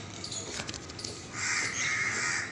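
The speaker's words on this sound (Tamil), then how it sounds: "காக்காய் வந்து குரங்கை விரட்டுது" A crow caws while chasing a monkey outdoors, giving a few harsh calls, first brief and then longer and louder, fairly close over quiet background.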